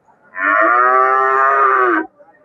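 A cow at a livestock bazaar in Izboskan district, Andijan region, lets out one long, loud, close moo lasting nearly two seconds, with no talk over it.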